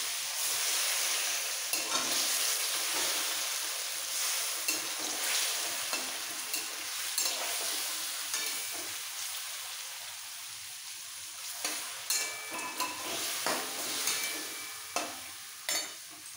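Green mango pieces with salt, turmeric and water being stirred in a hot pan, a steady bubbling sizzle broken by scraping spoon strokes against the pan, close and alone with no voices.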